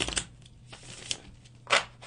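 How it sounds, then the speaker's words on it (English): Tarot cards being shuffled by hand, with a few soft riffling bursts of card flicks spaced through a quiet stretch, the last burst the loudest and closest. "we'll do a little shuffle."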